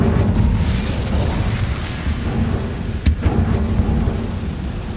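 A fire spell, Incendio, cast in the Hogwarts Legacy video game: a dense, roaring burst over a low rumbling bed, with one sharp crack about three seconds in, loud and close throughout.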